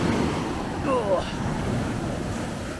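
Ocean surf rolling onto a beach as the tide rushes in fast, a steady broadband wash with wind buffeting the microphone and a brief louder swell near the middle.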